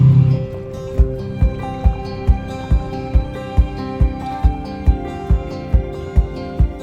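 A kayak paddled around the Muskegon Lighthouse at sunset: steady, evenly spaced paddle strokes splash close by, about two per second, over a sustained tonal backing.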